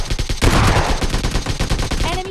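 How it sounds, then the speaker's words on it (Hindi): Rapid gunfire from the mobile battle-royale game PUBG Mobile Lite, loud and dense bursts of shots filling the whole stretch with no voices. "उधर से भी आपको फायरिंग के साउंड आ रहे होंगे"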